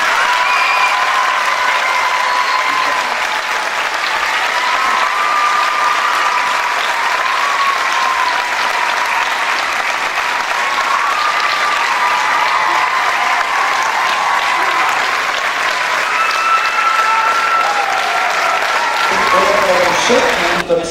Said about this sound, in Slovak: Tento potlesk je ešte raz pre vás.